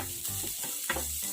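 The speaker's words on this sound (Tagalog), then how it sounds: "Tapos ay ilagay na natin ang bawang." Garlic drops into a frying pan of sautéed onions cooked without extra oil and gives a soft, close sizzle with brief stirring scrapes.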